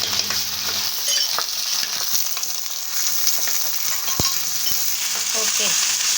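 Ginger garlic paste frying with browned onions in a pan for a goat head and spinach dish, a steady close sizzle with intermittent stirring clinks and scrapes, no voices.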